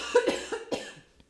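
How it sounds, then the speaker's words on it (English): A short burst of muffled coughs into a sleeve, three or four quick close hacks followed by a faint trailing breath. "I vampire coughed into my sleeve"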